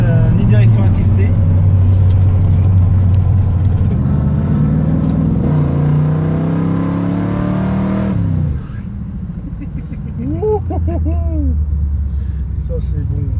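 A muscle car with a big V8 rumbles and revs through a corner on a race circuit, its engine note rising and falling loudly close by, with someone talking over it throughout.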